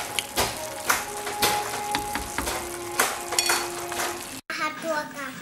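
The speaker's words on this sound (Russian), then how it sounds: "кабачки, морковка, перец. В общем, все тут. И теперь это все потушится." Zucchini, carrot and pepper cooking in a frying pan, with clattering utensil and pan knocks over a steady sizzle and bright clinks throughout, briefly cut off near the end before resuming.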